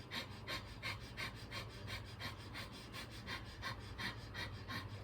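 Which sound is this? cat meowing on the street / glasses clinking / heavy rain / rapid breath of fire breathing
rapid breath of fire breathing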